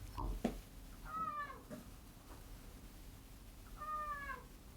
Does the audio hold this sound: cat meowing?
yes